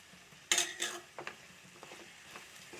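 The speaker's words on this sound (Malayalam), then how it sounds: "വീണ്ടും നമുക്ക് നല്ലപോലെ ഒന്ന് വഴറ്റിയെടുക്കാം" Chopped tomato, onion and ginger are sautéed in a pan for a chicken dish: a quick pair of clattering stirs, then softer scrapes and a faint sizzle, with no talking.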